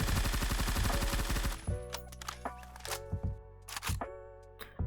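A GHZ 4 fires in Phantom Forces on the Void map: a rapid, steady burst of automatic gunfire for about a second and a half, followed by scattered single shots and clicks.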